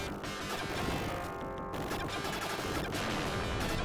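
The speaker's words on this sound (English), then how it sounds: "Oh, the explosion sound." A SEGA Genesis shooter bursts with a loud, gritty explosion effect, crackling noise sustained for several seconds over busy synthesized game music and rapid firing sounds.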